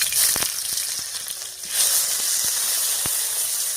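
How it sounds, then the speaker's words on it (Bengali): Potatoes drop into hot mustard oil over panch phoron and set off a loud, bright sizzle and hiss. The sizzle dips briefly, then surges back and holds steady, with a few faint clinks of stirring. No voices are heard. "ভাজা হয়ে গেছে, এবার আলুগুলো দিয়ে দিচ্ছি।"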